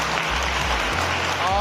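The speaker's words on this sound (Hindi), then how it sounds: "एक जोरदार ताली होनी चाहिए तीनों टीम के लिए।" Schoolchildren at a government school event applaud the three winning teams, a dense burst of clapping from a crowd that stays loud and continuous while a voice is heard over it.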